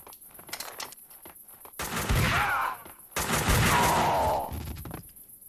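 Gunfire in the video game Max Payne 2, heard as two loud sustained bursts of shooting, each lasting about a second, that stand out above a quieter game background.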